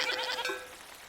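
Goats bleat in a Farthest Frontier farming settlement, a short burst of two or three close, wavering cries that trail off quickly.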